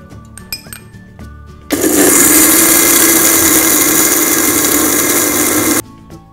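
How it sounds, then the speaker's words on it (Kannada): A mixer grinder grinds roasted sambar spice mix for Udupi sambar, starting abruptly as a loud, steady, high-pitched whir that runs for about four seconds and then cuts off, after quieter kitchen clatter. "ಈಗ ಇದನ್ನ ರುಬ್ಕೊಳ್ಳೋಣ."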